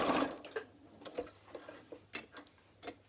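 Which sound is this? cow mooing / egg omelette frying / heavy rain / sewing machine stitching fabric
sewing machine stitching fabric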